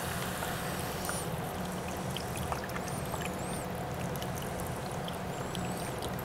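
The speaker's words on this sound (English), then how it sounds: "I just want to quickly add a little bit of the stock so we have enough liquid and enough flavor." Stock poured into a thick sauce in a pan gives a faint, steady liquid trickle lasting several seconds, alone with no talking.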